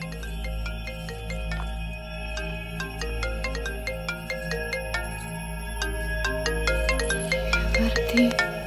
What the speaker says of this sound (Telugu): ఇక్కడ ఫోన్ రింగ్ అవుతుందేంటి?